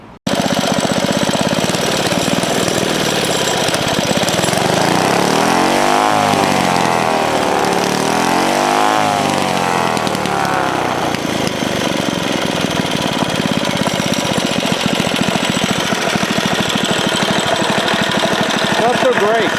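Small engine on a 1970 Rupp minibike with a troublesome brand-new carburetor runs loud and close for the whole stretch, a rough buzzing drone that surges and sags in pitch midway rather than holding a steady idle.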